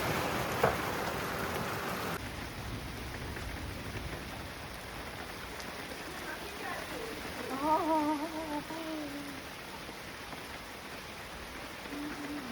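Steady rain falls during a village turmeric fair, a dense continuous hiss of drops on surfaces, fairly faint and even throughout, with a brief louder patch near the start and a few faint tonal calls in the middle.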